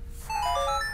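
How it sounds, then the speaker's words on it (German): A mobile phone ringtone plays a bright melody of stepped electronic tones that starts after a short quiet moment, then rings steadily and clearly up close. "Mein Handy klingelt."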